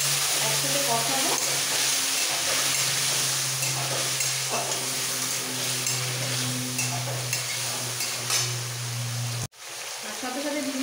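Ginger and cumin spice paste thinned with a little water sizzles steadily in a hot pan, a loud close frying hiss with scraping stirs, ending in a brief sharp knock.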